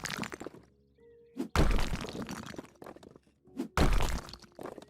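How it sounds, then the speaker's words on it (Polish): Two heavy, crunching impact thuds of a brick hitting a face in the video game House Flipper land a couple of seconds apart, with short vocal sounds between them. "Dostałem cegłą w pysk"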